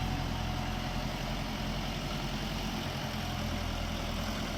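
Orion 404 mini tractor engine running loud and steady under increased throttle, a continuous close diesel-like rumble with no voices over it.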